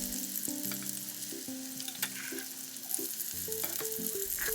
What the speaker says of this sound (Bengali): ভালো করে মশলাগুলোকে আমি নেড়ে চেড়ে মিশিয়ে নিচ্ছি।